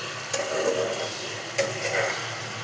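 Curry seasoned with garam masala is stirred in a pan, a soft sizzle running throughout with two sharp scraping clinks of the utensil against the metal, close by and with no voices.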